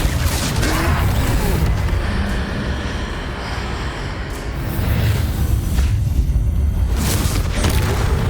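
A fire spell is cast in Hogwarts Legacy during a troll fight, heard as a loud sustained roaring whoosh with rumbling booms and crashes. The sound swells, dips midway, then surges again with sharp bursts near the end.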